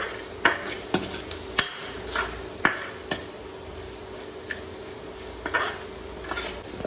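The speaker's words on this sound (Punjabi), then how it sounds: "ਲਾਲ ਮਿਰਚ ਪਾਊਡਰ ਤੇ ਥੋੜੀ ਜਿਹੀ ਆਪਾਂ ਪਾ ਲਾਂਗੇ ਹਲਦੀ ਪਾਊਡਰ ਤੇ ਮਸਾਲੇ ਨੂੰ ਮਿਕਸ ਕਰ ਦਾਂਗੇ" Red chilli powder, turmeric and spices stirred into okra in a pan, a utensil tapping and scraping the metal in irregular clinks over a quiet background hum.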